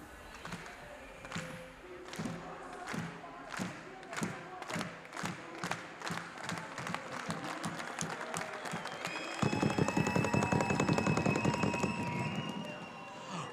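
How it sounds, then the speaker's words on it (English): An arena crowd at a FIRST Global Challenge robotics event starts a slow, evenly spaced clap that quickens steadily and then breaks into dense, loud applause with cheering. "So I want to start with a slow clap, and we're gonna speed it up."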